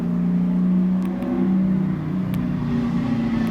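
Passing car outside with its engine revving, a steady mid-level drone that swells and eases with faint clicks over it, heard from indoors.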